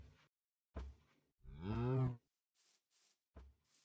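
A cow moos in a modded hardcore video game, one drawn-out low call between short thuds and faint game sounds, with no talking.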